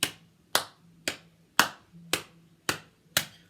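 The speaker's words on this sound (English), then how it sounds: "When we clap the beat, it sounds like this." Hands clap a slow, steady beat, seven sharp claps evenly spaced about half a second apart, close and crisp with no talk over them.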